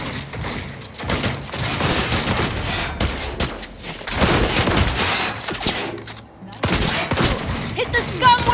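Heavy gunfire in the video game Cyberpunk 2077, loud sustained bursts of automatic shots and rattling volleys with brief gaps, alongside game effects and shouted voices.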